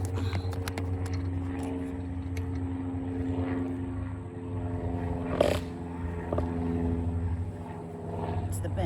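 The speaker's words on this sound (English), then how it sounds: "It's the bench sound and the airplane." A propeller airplane drones overhead as a steady low hum, with a brief creak or knock from a bench near the middle, all fairly faint and indoors-sounding, with no talk.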